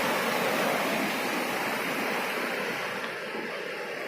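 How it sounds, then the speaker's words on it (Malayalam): Swollen rainwater rushes and flows past in a broad, continuous roar, steady and fairly close, with no voices over it. "നല്ല പൊങ്ങി വെള്ളം വന്ന് ഒഴുകുന്നതാണ് കേട്ടോ"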